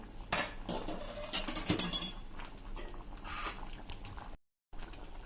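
Potatoes and peas with spices being mashed in a pan for street-style ragda, giving a run of close metallic clinks and scrapes of a utensil against the pan, with a brief pause near the end.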